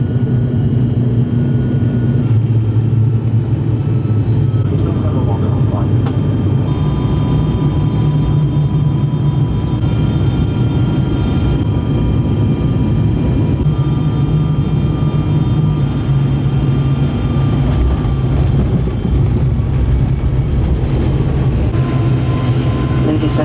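Airliner landing at Malabo International Airport in Equatorial Guinea, heard as a steady, loud low roar of engines and rumble on the runway, with faint tonal whine above, continuous and without talk.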